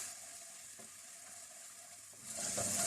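Garlic ginger paste sizzling in hot oil in a pan while cooking shahi chicken handi, a soft steady fry that grows louder and brighter near the end.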